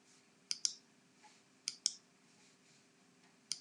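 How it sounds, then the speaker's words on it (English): Computer mouse clicks during design work in ScanNCut Canvas Workspace software, a few sharp close clicks in pairs, quiet and alone with no talk. "Now I'm just going to right click and make them a group."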